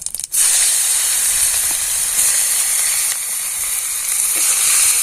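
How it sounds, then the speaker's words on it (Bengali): Chopped onion sizzles in hot oil in a kadai with cumin seeds. The frying hiss is loud and close and holds constant after a short start, with faint stirring underneath. "পেঁয়াজটা একটু হালকা ভেজে নেব।"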